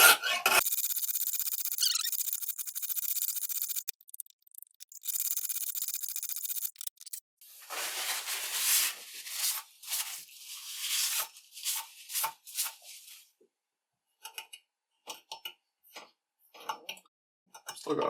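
A knife is worked on a Lansky guided sharpening system, with bursts of close scraping and rasping from the stone on the blade separated by pauses and soft ticks.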